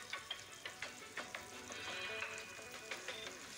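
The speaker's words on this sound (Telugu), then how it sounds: "ఇప్పుడు ఒక ప్యాన్లో ఆయిల్ తీసుకొని ఇవి ముక్కలు అనేటివి ఎండు చేప ముక్కలు ఇలా ఫ్రై చేసుకుందాము" Dry fish pieces frying in hot oil in a pan, a soft continuous sizzle punctuated by repeated light crackles and spatters, close and fairly quiet.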